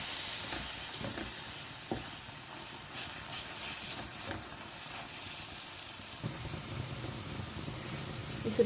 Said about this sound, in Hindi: और अब इसे मैं अच्छे से फ्राई करूंगी।